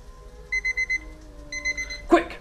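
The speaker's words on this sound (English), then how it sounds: "Set timer for like 2 minutes maybe." A kitchen timer alarm sounds in two bursts of rapid high beeps, about five quick pulses then a few more after a pause, ending with a short clatter.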